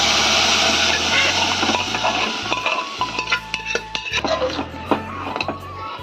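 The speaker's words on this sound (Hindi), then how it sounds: "तो यहाँ पर डाल दिया है तेल और लहसुन।" Oil and garlic sizzle in a large pot for tempering dal, a hissing sizzle strongest at first and gradually fading, broken by metallic clanks and scrapes of stirring.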